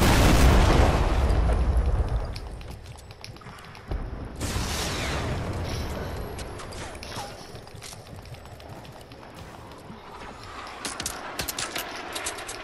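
Missile explosion in the video game Fortnite, a heavy, booming blast that opens loud and rumbling, then decays over a couple of seconds, followed by a second burst and scattered clicks and game effects.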